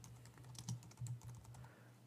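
Computer keyboard keystrokes tap in an irregular run of light clicks with a couple of heavier presses, heard close and faint over a steady electrical hum, with no talking.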